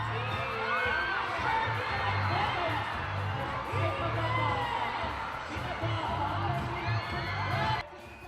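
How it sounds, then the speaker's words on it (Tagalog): A large crowd of fans in Davao shrieks and cheers as a celebrity actor comes on stage, a loud continuous roar of high-pitched screams and whoops over a thumping music beat, cutting off near the end. "At mas lumakas pa ang hiyawan ng mga Dabawenyo nang lumabas na on stage si Dingdong."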